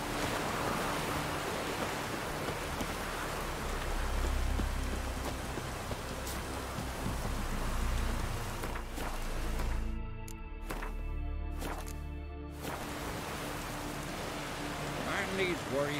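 Steady rain falling in The Witcher 3 game, a constant hiss of raindrops on surfaces lasting the whole stretch, with a brief sung voice passing over it in the middle.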